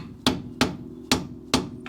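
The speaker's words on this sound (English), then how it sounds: "just smashing it with a hammer" Four sharp, ringing hammer blows strike an old wooden bar under a small Nissan K11 Micra, evenly spaced at close range with no voices.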